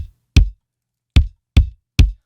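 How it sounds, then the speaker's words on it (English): Kick drum miked inside with an Audix D6, four tight hits with a sharp clicky attack and fast low thump, close and loud, irregularly spaced in silence after a faint tail at the start. "So the kick in is an Audix D6."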